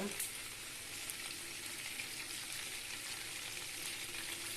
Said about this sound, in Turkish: Tavaya tereyağı aldım.